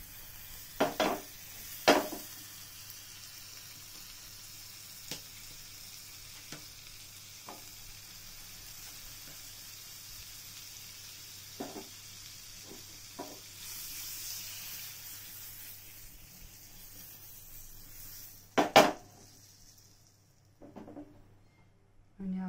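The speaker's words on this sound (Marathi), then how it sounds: "आपला पॅन गरम झाला. याच्यामध्ये मस्त मी बटर टाकते." Butter melts and sizzles in a hot pan for a spinach egg roll paratha, a faint steady frying hiss broken by a few clinks of utensils against the pan.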